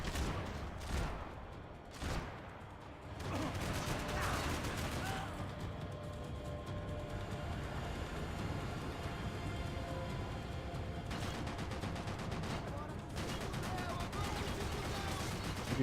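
Sustained boss-fight gunfire in Max Payne 3, with dense bursts and booming shots layered over game music and effects, loud and continuous throughout with sharper clusters of shots near the start and again toward the end.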